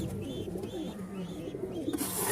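Male pigeon among a flock of local and foreign fancy breeds cooing in soft, low repeated calls close by, a steady murmuring rhythm with faint higher chirps and background rustle.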